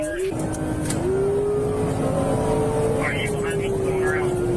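Engine of a car drifting around corners during a police chase, a sustained rising and falling drone with a wavering siren tone sweeping through, loud and continuous over the whole stretch.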